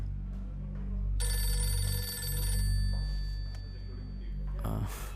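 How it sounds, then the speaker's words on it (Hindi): A phone ringtone plays a bright electronic tone over a low hum, then cuts off as faint rustling follows. "ए भाई, ये रिंगटोन मुझे चाहिए।"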